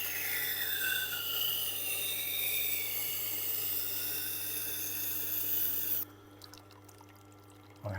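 A knife grinds against a Tormek water-cooled sharpening wheel with a steady wet hiss and scraping over a motor hum. The grinding stops abruptly near the end, leaving the machine running alone.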